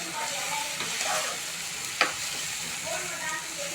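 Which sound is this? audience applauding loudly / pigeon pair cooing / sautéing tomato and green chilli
sautéing tomato and green chilli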